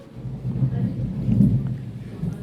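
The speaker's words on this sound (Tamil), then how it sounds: "மழை பெய்யுது" Rain falls outside in a steady low rumble with heavy, rolling wash that swells and eases, sounding like a downpour heard from indoors, with no clear speech.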